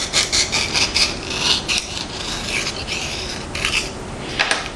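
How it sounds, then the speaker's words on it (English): A knife carves a deep bevel into foam board in a back-and-forth sawing motion, giving repeated close scraping, rasping strokes with an uneven rhythm and no talking. "cutting away from me, just in a sawing motion"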